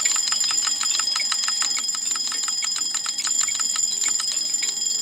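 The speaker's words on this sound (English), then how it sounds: "Yeah, the alarm really helped there, Anthony." An alarm rings in the restaurant cooking game Papa's Mocharia, a loud, steady, rapid bell-like trill that sounds continuously throughout without pausing, with no voices.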